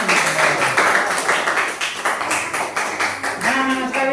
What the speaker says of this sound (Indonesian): beri tepuk tangan. Beri tepuk tangan.